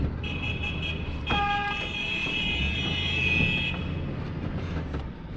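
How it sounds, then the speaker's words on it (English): A haul truck's horn blasts on a construction haul road: a loud, steady multi-tone blare held for a couple of seconds over the rumble of the engine, with a shorter tone starting just before it. "Your horn sounds like 3 cars in one."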